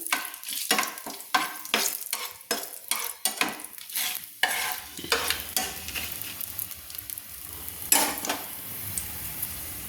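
Whole cardamom and a cinnamon stick stirred in hot oil, with rapid rhythmic scraping strokes of a spatula against the pan over a close crackling sizzle, settling into quieter frying with an occasional clink.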